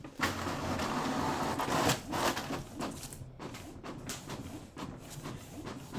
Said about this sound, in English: we're going to go ahead now and press print